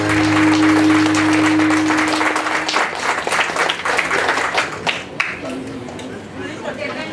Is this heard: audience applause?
yes